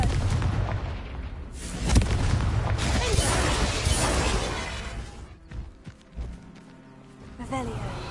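A Confringo blast spell going off in a Harry Potter video game, a loud booming burst that shatters and rumbles before trailing into scattered crackles and debris.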